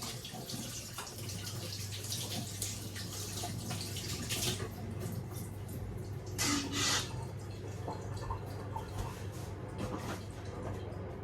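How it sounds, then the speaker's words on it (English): Tap water runs steadily into a kitchen sink while hands are washed during home cooking of Jamaican-style oxtail, a continuous hiss with a couple of brief louder splashes, heard alone without talk. "I'll wash my hands."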